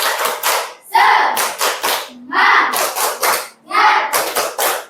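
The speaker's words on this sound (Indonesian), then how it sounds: "Sebelum kita mulai gamenya, tepuk semangat dulu yuk" A school class doing a spirited group clap, loud, close bursts of many hands clapping in quick patterned rhythms with short pauses between sets, and the voices of the children chanting along.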